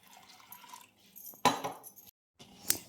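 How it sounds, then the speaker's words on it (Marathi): A spoon stirs whole masoor lentils in warm water inside a metal vessel, giving a few sharp clinks and scrapes with soft liquid swishes between them and a short silence near the end. "आता चम्मचने व्यवस्थित आपण हलवून घेणार आहोत."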